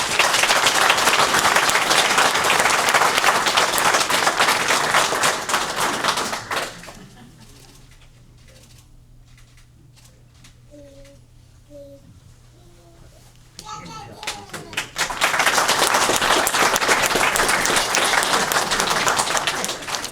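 Applause from an audience welcoming the new head coach at a University of North Alabama women's basketball press conference: dense clapping for about six seconds, a quiet gap with faint sounds, then another loud, sustained burst of applause.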